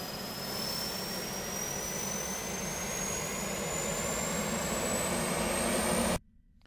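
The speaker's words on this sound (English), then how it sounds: "let's go ahead and turn on the APU, which they call turbo" Auxiliary power unit (turbo starter) of an L-39 jet trainer in the DCS World flight simulator, running as a steady, loud turbine roar with a slowly rising whine for about six seconds before cutting off abruptly.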